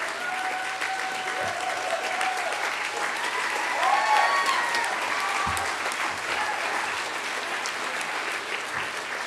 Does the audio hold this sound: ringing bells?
no